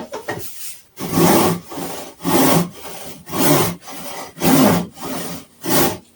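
A panel saw rip-cutting along timber, with six loud, rhythmic rasping strokes about a second apart, each a full push or pull of the blade, close up and with no voices.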